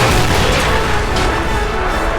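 Explosions ring out across a crowded battlefield in The Toy War, a loud, unbroken wall of booming and rumbling with no pauses and no voices.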